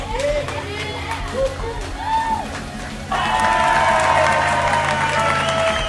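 A studio audience at a live comedy radio show claps and cheers loudly, with whoops rising over steady applause that swells into a dense, sustained roar partway through.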